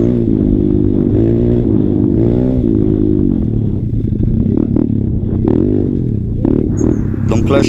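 A vehicle drifts twice on a dirt path, engine revving and rising and falling with a scraping clatter of tires on loose ground. Someone talks over the noise close to the microphone throughout.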